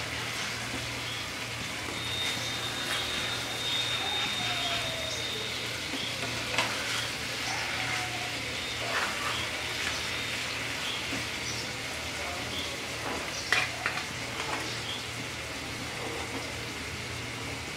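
Rohu fish bhuna cooking in a frying pan, a steady, close sizzle running throughout with soft scrapes and taps of stirring on top and no talking.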